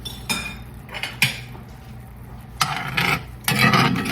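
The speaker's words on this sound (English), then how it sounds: "I'm gonna add our shrimp back to our garlic and butter mixture. And I'm gonna carefully work these around." Shrimp being stirred in a hot pan of garlic butter, with scraping and clinking of a utensil against the pan in irregular strokes and a soft sizzle underneath, close with no talking.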